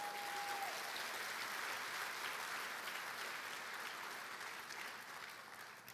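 A church congregation breaks into sustained applause for the Lord during a sermon, a dense, steady wash of clapping that holds at even strength for several seconds before easing slightly at the end.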